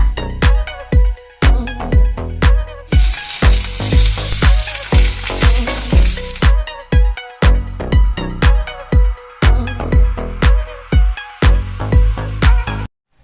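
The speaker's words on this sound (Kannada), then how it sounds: "ಫಿಶ್ ತವಾ ಫ್ರೈ ಮಾಡೋಣ" Fish fries on a tawa with a steady, loud sizzle, broken by many sharp clinks and scrapes of a spatula against the pan in a fairly regular rhythm, with a louder hissing burst partway through.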